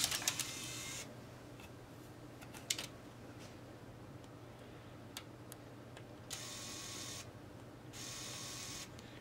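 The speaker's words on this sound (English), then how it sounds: "If you hit the eject button, the drive mechanism will make a whirring noise." The disc drive mechanism of a Nintendo Wii whirs faintly after the eject button is pressed, with a quiet hum, a few small clicks, and short bursts of louder whirring, close by and with no speech.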